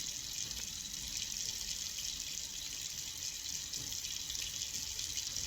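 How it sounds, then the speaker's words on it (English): A tap runs steadily into a pot being filled to water plants, a continuous hissing, splashing stream close by with no talking. "Hold on, I got to get another pot to water."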